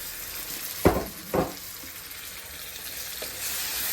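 Tomato ketchup poured into a frying pan while pasta is cooked, giving two short sizzling bursts followed by a quiet steady hiss, close and fairly faint.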